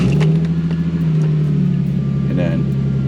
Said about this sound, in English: then you can start the car